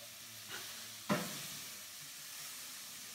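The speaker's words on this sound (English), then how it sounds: "You want to hear that sizzle." Spanish chicken sizzling in a pan, a quiet steady hiss of frying with a brief stir or clatter around the one-second mark, no talking.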